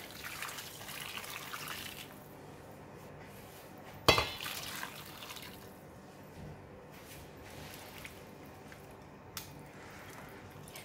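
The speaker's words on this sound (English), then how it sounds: "we're going to pour in hot water" Hot water pours over raw chicken feet in a pot for rinsing, a steady gushing and splashing stream with a sharp clatter around the midpoint and a brief knock near the end.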